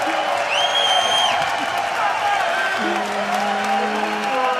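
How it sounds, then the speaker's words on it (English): A London esports crowd at a League of Legends match cheers and applauds steadily. The dense roar holds for the whole stretch, with tonal sounds laid over it. "If you just let them cheer for a second."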